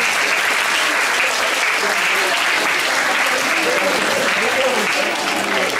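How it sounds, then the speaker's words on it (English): An audience at a high school Christmas chorale contest awarding claps in sustained, dense applause, loud and even from start to finish. "Another round of applause."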